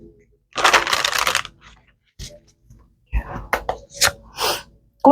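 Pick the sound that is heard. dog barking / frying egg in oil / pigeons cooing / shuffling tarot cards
shuffling tarot cards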